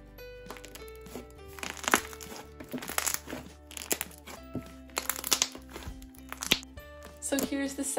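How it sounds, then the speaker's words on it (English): Stretchy butter slime from an Elmer's kit being squished and pulled, giving off a dense run of crackly pops, squelches and snaps at close range over a faint steady hum. "This slime is just so nice and stretchy and has great bubble pops"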